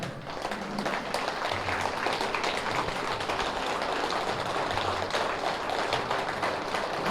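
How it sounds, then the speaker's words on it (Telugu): Large crowd at the Mahakaruna vegetarian rally in Vinukonda clapping hard together, a loud, sustained rattle of applause running throughout, with no talk over it. "మనకు మనం ఒకసారి కృతజ్ఞతలు చెప్పుకుందాం చప్పట్లతో గట్టిగా"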